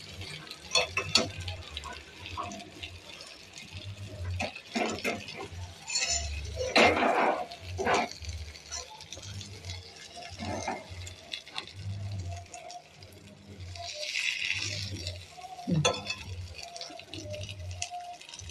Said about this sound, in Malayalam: അങ്ങനെ എല്ലാം കൂടെ നമുക്ക് തിരിച്ചിട്ട് വറുക്കാം